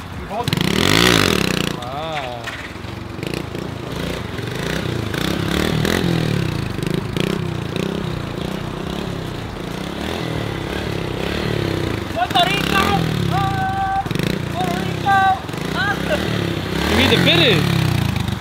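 A cheap Amazon go-kart engine buzzes and revs up and down near the listener, a raspy small-engine whine that rises and falls repeatedly while people talk over it.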